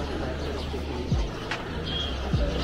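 Birds in a garden in Khaplu, Pakistan, with a couple of low pigeon-like coos and faint chirps over light outdoor background noise.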